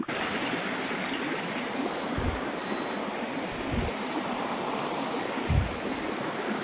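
Steady broadband rushing water fills the clip, continuous and loud, with a few faint low thumps and a thin high whine above.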